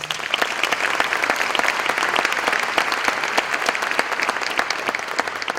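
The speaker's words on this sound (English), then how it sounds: "Let's give them all a round of applause." A banquet audience at a community dinner applauds its sponsors, a full, lively round of many hands clapping with sharp individual claps standing out, steady throughout.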